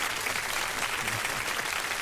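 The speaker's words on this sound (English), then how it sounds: "got to get a hand clap" Steady applause from a group of hands clapping at a radio show with an assemblyman as guest, a dense, even patter lasting the whole stretch at moderate loudness with no voices.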